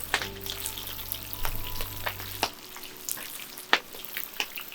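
Fish cooks over a wood fire with a steady soft sizzle broken by scattered sharp crackles and pops. There is a low hum in the first half, and no one talks.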